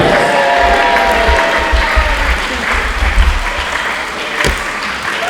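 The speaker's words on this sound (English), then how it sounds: "Let's just go big cheer everyone." Crowd at a wrestling show in Aylesbury applauding after a match, a steady wash of clapping with some cheering, fairly close and loud throughout.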